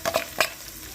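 Three green chilies dropped into ginger and garlic frying in oil for a Punjabi sarson ka saag tadka: a brief, close sizzle with a couple of stirring bursts, then a softer steady hiss.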